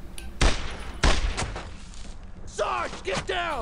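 Gunfire in the WWII shooter Brothers in Arms: Road to Hill 30, two heavy booming shots followed by lighter pops, then shouted voices over the noise of battle.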